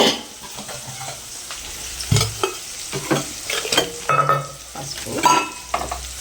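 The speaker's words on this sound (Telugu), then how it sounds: "కొంచెం చిక్కటి పసుపు కూడా వేస్తాం." Turmeric is stirred into food frying in a generous amount of oil, with a steady sizzle broken by frequent scraping and clattering stirring strokes in an uneven rhythm, close and fairly loud.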